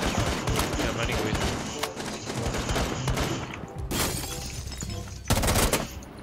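Sustained gunfire in the tactical shooter Rainbow Six Siege, dense rattling shots throughout with heavier louder blasts near the end, mixed with in-game clatter and possible faint talk.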